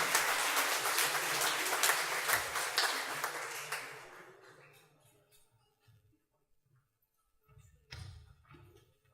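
An audience applauds the mayor at the inauguration of the Frénésies sur Scène 2018 festival, a dense, loud round of clapping that thins and fades after about four seconds into scattered, quieter sounds and a few distant voices.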